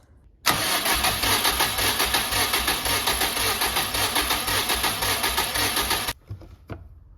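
A 2003 Subaru WRX engine cranks over on the starter during a compression test, a steady loud rhythmic churning lasting about six seconds with no firing, then stopping abruptly, close and without talk.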